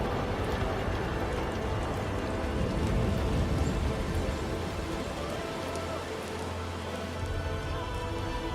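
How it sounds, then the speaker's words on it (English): Rain summoned by an ability in a video game pours down as a dense, steady patter of drops on surfaces, continuous and fairly loud, with a low hum underneath and voices talking over it. "Go ahead and call the rain in."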